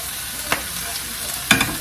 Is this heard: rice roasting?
yes